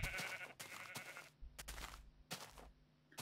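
Sheep in the Minecraft video game bleat in several short, nasal calls that come one after another, fairly faint, with brief quiet gaps between them.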